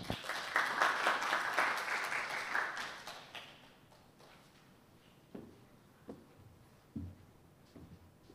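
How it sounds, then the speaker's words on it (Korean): An audience at a seminar claps for an incoming speaker in a brisk round of applause lasting about three seconds, then the room falls quiet apart from a few soft thumps and shuffles. "큰 박수를 맞이해 주십시오"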